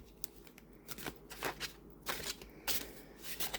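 Tarot cards from a Cats and Dogs deck with a semi-gloss finish being shuffled by hand without a full riffle, giving a series of soft, papery bursts of flicking and sliding close by with no voices.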